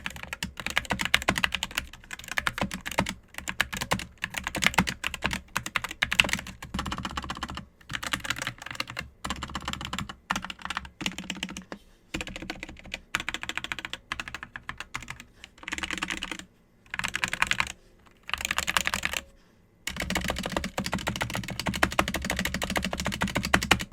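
Continuous typing on a GEEK SK64S compact keyboard with Gateron optical switches: dense, close keystrokes in quick bursts with short pauses between, crisp and alone.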